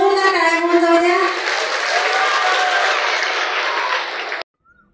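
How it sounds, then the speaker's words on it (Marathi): Loud, continuous crowd applause with cheering voices at a rail service inauguration ceremony, filling about four and a half seconds before cutting off abruptly. "रेल्वे करता एकदा जोरदार टाळ्या म्हणून जाऊ द्या"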